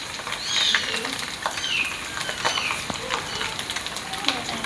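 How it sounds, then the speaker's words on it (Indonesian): Small anchovies (teri) fry in hot oil for sambal, giving a steady close crackle and sizzle with light popping throughout, under occasional soft talk. "Nah terinya digoreng dulu."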